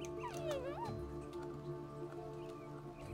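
Dog whimpering in a video game, a few rising and falling whines near the start over a steady game background hum, then quieter ambience.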